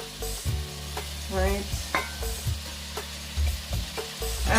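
Saltfish fries with onions and tomatoes in a pan, a loud close sizzle broken by repeated spoon scrapes and knocks against the pan, with a brief spoken word near the start.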